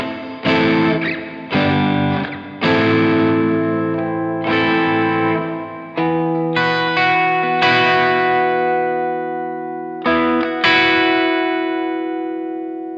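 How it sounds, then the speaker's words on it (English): Plate reverb in the style of the EMT 140 from an ALABS Cetus pedal on a clean electric instrument, with a string of struck chords that each bloom and ring out into a long, smooth tail before the next one. "So the next one is plate reverb."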